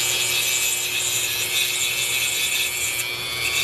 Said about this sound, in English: I was using a pocket knife to clean the enamel coating off of this wire